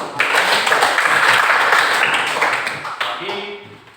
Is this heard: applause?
yes